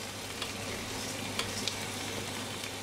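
Red lentils and bulgur sizzle gently in a hot pot for soup while being stirred, with a few soft scraping clicks over a steady frying hiss.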